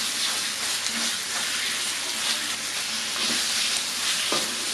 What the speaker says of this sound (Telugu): మనం రుబ్బుకున్న పచ్చడిని ఈ తాలింపులో వేసుకోవాలి. స్టవ్ సిమ్లో పెట్టుకుని కొద్దిసేపు ఈ పచ్చడిని మగ్గనివ్వాలండి.